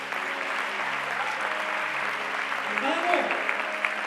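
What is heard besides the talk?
church congregation applause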